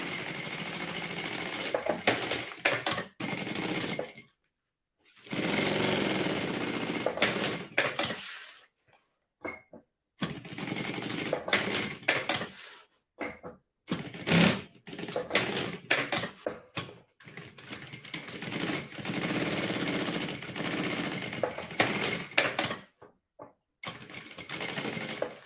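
Sewing machine stitching the side seam of a fabric multipurpose organizer bag, running in several bursts of steady mechanical whirring separated by short pauses.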